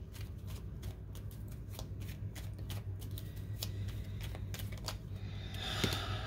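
Tarot cards are shuffled and flipped in a quiet room, a quick run of soft, crisp riffling clicks and flicks, close and fairly faint, building slightly at the end; no talk.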